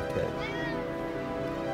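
A cat meows in a drawn-out, wavering cry close by, with a steady hum in the background.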